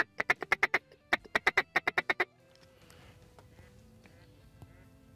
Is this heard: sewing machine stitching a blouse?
no